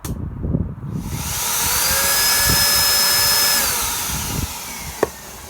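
A Miele S6220 Cat & Dog canister vacuum runs up to a loud, steady motor whine close by. It eases down near the end, and a sharp click follows.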